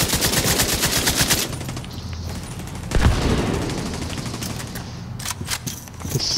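Rapid automatic turret gunfire in The Division 2 video game, loud dense bursts that rattle on steadily, thinning to scattered shots and booms toward the end.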